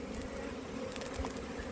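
Honey bees stirred up during a honey harvest, buzzing in a steady, dense drone that holds at an even level throughout, close by and with no voices.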